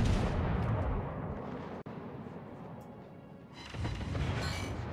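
Warship guns firing in the World of Warships naval video game, a dense rumbling barrage under a constant battle din, with a sharp crack partway through and another swell of blasts toward the end.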